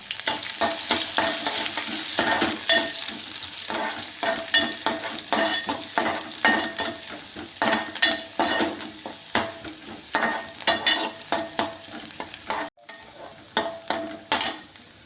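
Onion sautéing in a pan gives a loud, dense sizzle broken by quick, rhythmic stirring scrapes. The stirring grows sparser and more distinct toward the end, with a brief dropout near the close.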